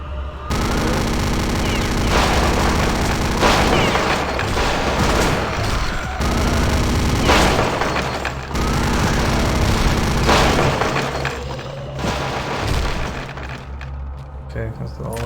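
Chain gun in Return to Castle Wolfenstein, loud sustained bursts of rapid automatic fire with booming impacts, broken by short pauses, while a voice talks over the gunfire.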